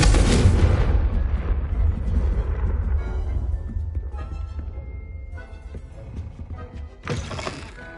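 A Confringo fire-blast spell in a Hogwarts video game erupts in a loud booming explosion that rumbles and fades over several seconds, followed by a second sharp burst near the end.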